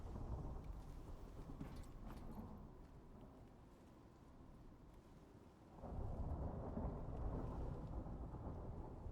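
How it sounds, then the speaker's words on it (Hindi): Thunderstorm in the survival game Icarus, with a continuous low rumble of thunder and rain that swells louder partway through, no voices. "बिजली कड़क रही है, मेरे पे भी गिर सकती है।"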